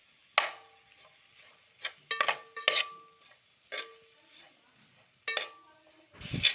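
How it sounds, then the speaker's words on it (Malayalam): Chicken curry being stirred in a pot gives a series of quiet, separate scraping and clinking strokes, spaced irregularly with soft pauses between them. "നല്ലവണ്ണം ഇളക്കി കൊടുക്കുക."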